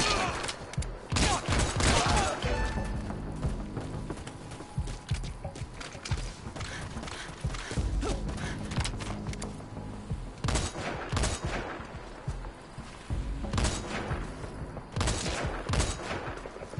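Rapid gunfire from the glitch gun in the online shooter Metal Gear Online, loud, dense bursts of shots repeating in volleys throughout with sharp cracks and brief gaps.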